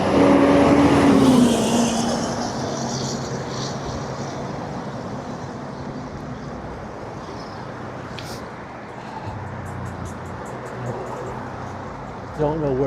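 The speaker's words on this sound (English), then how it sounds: "Here I've got a truck coming up on me." A truck comes up from behind on a road near East Mall and West Mall in Etobicoke. Its engine and road roar are loudest at the start, then settle into a steady, broad traffic rumble that lingers throughout.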